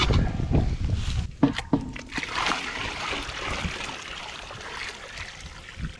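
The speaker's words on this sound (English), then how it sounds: "All right, we got the water boiling." Water boils and bubbles in a pot over a campfire, a steady close churning and gurgling, with a few sharp clinks near the start.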